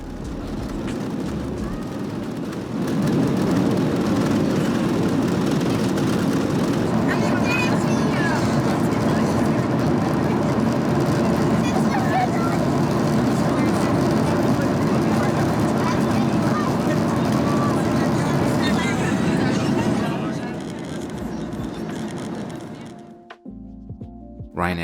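Ryanair airliner taking off on a rainy evening, heard from inside the cabin as a loud, steady engine roar that swells after a few seconds, holds at full power, then drops away toward the end.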